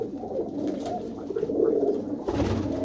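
Pigeons kept in a loft near Mandi Gobindgarh coo close at hand, a full, throaty rolling murmur of several birds that swells midway and carries on without talk.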